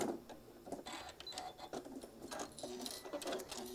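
Sewing machine stitching across a foam-padded travel case for a mini iron, a quick mechanical clatter in short rhythmic bursts with brief pauses as it back tacks, close and fairly quiet.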